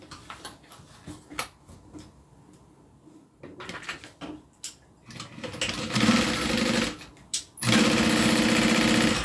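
A sewing machine runs a stay stitch on a zip-around wallet: scattered clicks and short starts at first, then two loud, steady sustained bursts of stitching close to the microphone.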